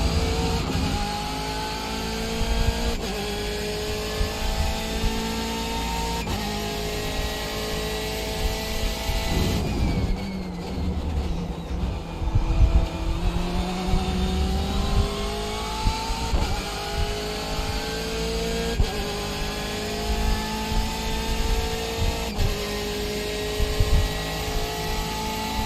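A GT race car engine runs through a lap of the Red Bull Ring in a sim racing game, climbing steadily in pitch through each gear, with repeated upshifts and a brief lift and downshift midway before it pulls hard again.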